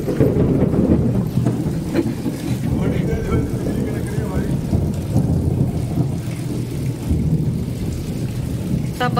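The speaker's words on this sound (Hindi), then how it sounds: "खूब बारिश हो रहा तेज तेज दोस्तों" Heavy rain pours down in a steady, loud roar while low rumbles of thunder roll underneath, continuous and enveloping for several seconds.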